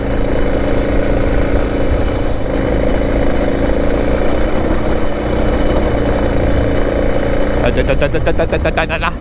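A Suzuki DR650 motorcycle rides in second gear over a washboard dirt road, its engine droning loud and steady throughout with rattling chatter near the end, while the rider talks over it.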